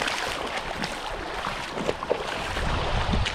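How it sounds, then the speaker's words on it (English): Rapids on an Iowa river rush steadily, a loud broadband wash of churning water that fills the whole moment without pause. "Don't know how good the audio will be with this rushing water here"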